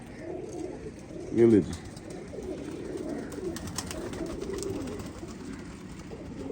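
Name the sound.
Teddy pigeons cooing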